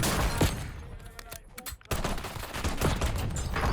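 Close-range pistol gunfight in Call of Duty: Warzone, Verdansk, with dense rapid shots and impacts filling the short stretch, a brief lull near the middle before the firing resumes loudly.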